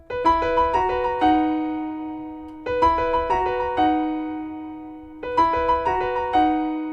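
Piano played with both hands, the rippling intro phrase of a pop song over sustained low tones, heard three times in a row, clear and close.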